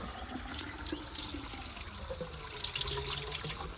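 Water drawn from a canal through pipes gushes and splashes steadily nearby, a continuous rushing flow with bubbling bursts near the end.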